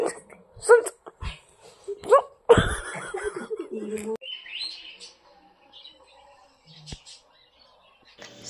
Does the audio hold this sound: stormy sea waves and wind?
no